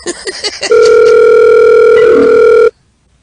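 Quick keypad dialing beeps followed by a loud, steady telephone tone on a call back, heard close and alone, then cut off abruptly into silence.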